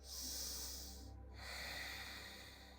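A deep yoga inhale, one long airy breath drawn close to the mic, briefly broken by a pause and then continuing with a steady hiss of air.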